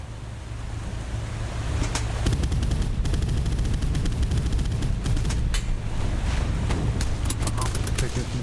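Bursts of boat-mounted gunfire in the naval combat game Boat Crew, repeated sharp shots over a steady roar of engine and water, loud and continuous throughout.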